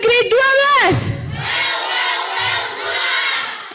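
A group of high school students shouts a yel-yel chant together at a speed-reading training event, loud and close. A rising, tonal shout opens the chant, and a sustained roar of crowd voices follows.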